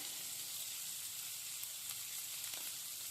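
A hot pan of masala for a spicy dried-fish curry sizzles faintly and steadily as spices go in, a continuous low frying hiss with slight stirring, no talk over it.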